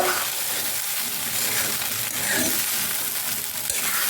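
Flattened rice (chira) frying in a pan for a quick breakfast, a steady close-up rustling sizzle with faint scraping stirs running evenly throughout, no voices.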